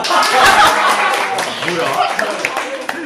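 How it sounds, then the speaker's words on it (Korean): A room of students at a university class presentation claps together in a dense burst, with voices and a little laughter mixed through the applause. "박수."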